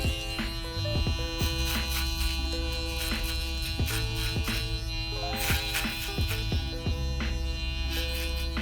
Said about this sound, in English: I'm gonna follow that same exact path using my foil shaver